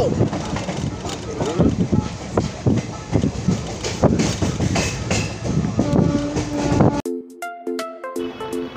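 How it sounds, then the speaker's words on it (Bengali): A Kolkata to Haldibari superfast express rattles across Bally bridge over the Ganges, with loud rhythmic clattering and rumble from inside the carriage, then a sudden cut to quieter tonal sound near the end. "আমরা ছুটে চলেছি ট্রেনে করে রামপুরহাটের"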